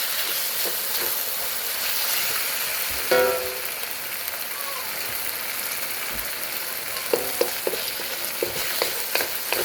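Steady sizzling and crackle of beef being stir-fried in a hot wok with ginger, garlic and bird's eye chilies, with occasional scraping clinks from stirring, continuous and close.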